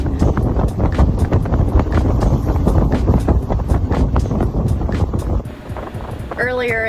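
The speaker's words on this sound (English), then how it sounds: "7:10, we got the wind." Wind gusting around a moored boat tied up with doubled lines at a dock, a loud, continuous buffeting roar that eases slightly near the end, where a brief higher tone sounds.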